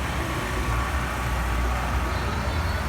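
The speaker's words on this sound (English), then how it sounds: "Sorry about the generator noise." A generator runs steadily at a car show lineup of Ford Mustangs, giving a constant loud broadband drone with a low engine rumble that holds without pause throughout.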